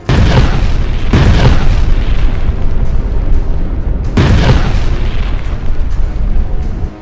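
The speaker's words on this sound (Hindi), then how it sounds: "बेरूत से 100 गुना बारूदी धमाके यहां हुए हैं।" Massive wartime explosions in Jabalia, Gaza, from tank shells and heavy bombs: three deep, loud booms, each with a long rolling rumble filling the gaps between blasts, with no voices.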